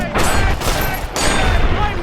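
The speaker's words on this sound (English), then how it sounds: "I decide to clean up a few ants with the gun Sunny Smiles lent me." Rapid gunfire from a borrowed gun in Fallout: New Vegas fires in two dense bursts, loud and continuous, with a short break between them. It sits under a game soundtrack.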